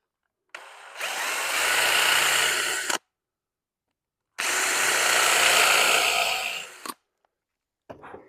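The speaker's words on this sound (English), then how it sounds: "going back to the drill, I'm going to shoot a hole right here in between the brads" A power drill whirs loudly in two sustained bursts of a few seconds each, drilling a hole in a woodworking jig, separated by a brief silence, close up with no talking.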